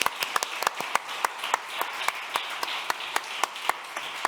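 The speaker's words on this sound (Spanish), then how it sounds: "Un aplauso fortísimo para ella." Light, scattered clapping from a small audience at a dermatitis awareness day award ceremony, with individual claps spaced unevenly and fairly close, no voices over it.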